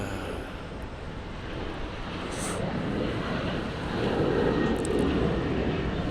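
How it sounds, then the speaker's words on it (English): A Boeing 737 airliner at Logan Airport gives off a steady, fairly faint jet roar from a distance that swells slightly toward the end, with wind noise and no talking. "There we go. Boeing 737."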